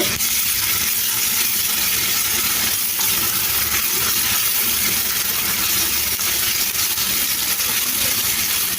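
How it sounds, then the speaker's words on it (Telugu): Ginger garlic paste frying in a hot pan, a steady close sizzle with a hissing, crackling texture that holds evenly throughout without pause. "ఈ అల్లం వెల్లుల్లి పేస్ట్ పచ్చివాసన పోయే వరకు ఫ్రై చేసుకోవాలి"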